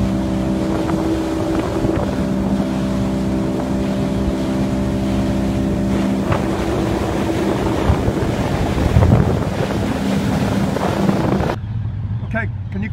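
A motorboat engine drones steadily and loudly at close range with wind buffeting the microphone, then cuts out abruptly near the end, leaving quieter water noise.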